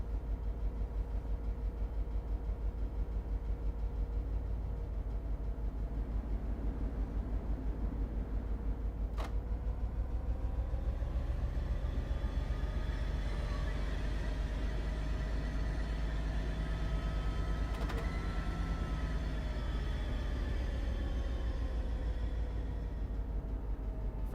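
Train Sim World 5 locomotive running on the BNSF line, a steady low engine drone and rolling rumble with rising and falling tonal whine, continuous throughout.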